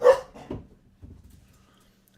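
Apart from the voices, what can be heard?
dog barking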